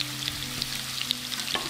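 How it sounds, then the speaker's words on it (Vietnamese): Potatoes and carrots fry in a pan for a vegan curry, giving a steady, close sizzle with a few light stirring taps and a low background hum. "Khi mình cho cà rốt vô rồi thì mình cũng lật trở tiếp tục để cho nó nâu vàng các phía."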